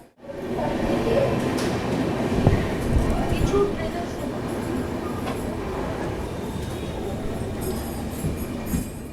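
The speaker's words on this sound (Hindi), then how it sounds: "तो फाइनली अपनी दुरंतो एक्सप्रेस अपनी लास्ट स्टॉपेज यानी द सिटी ऑफ ब्रदरहुड भाईचारों के शहर आसनसोल से जो है ना निकल चुकी है" Duronto Express train pulling out of Asansol Junction, heard from inside a sleeper coach as a steady loud rumble of wheels and carriage noise with faint rail clicks and squeals, a voice talking over it.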